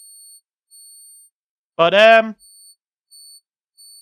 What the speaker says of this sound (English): It sounds like a bomb going off. Beep beep beep beep beep. Boom.